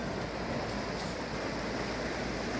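River water tumbling like a small waterfall in a park in Riyadh, a continuous broad rushing wash that stays steady and moderately distant with no voices.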